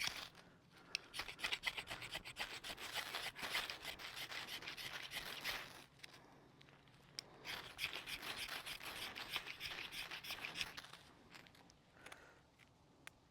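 A Benchmade knife spine rasps repeatedly against a fire starter rod in two long bursts of quick, close scraping strokes, faint and dry, separated by a short pause.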